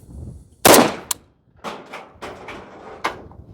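A Yugo underfolder rifle fires in semi-auto: one loud, sharp close shot followed by about five lighter, evenly spaced reports with short echoing tails, heard outdoors with no talking.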